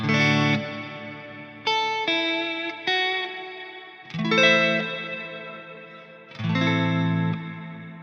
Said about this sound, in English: So try to focus just on the reverb tail.